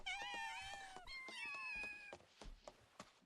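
A cat in the video game Final Fantasy VII Rebirth meows several times in quick succession, with drawn-out rising and falling cries followed by shorter, softer mews, close and fairly quiet.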